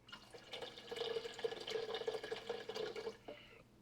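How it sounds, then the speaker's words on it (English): Water pours steadily into a soup pot of chicken broth for hot and sour soup, a continuous splashing trickle for about three seconds before tapering off, close and moderately loud with no talk. "I'm gonna add in a bit more water here."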